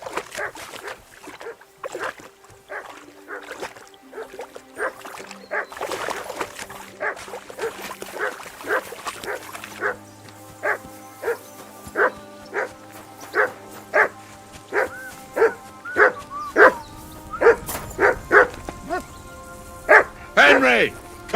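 Dog barking in the medieval video game Kingdom Come Deliverance 2: a long run of sharp, repeated barks, sparse at first and then quicker and louder toward the end, with game voices talking in between.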